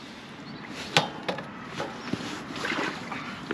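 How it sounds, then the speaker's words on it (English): A tall man climbing into a canoe on the water: scattered hollow wooden knocks and bumps against the hull, with soft shuffling in between, fairly faint and close. "And he is now going into the canoe."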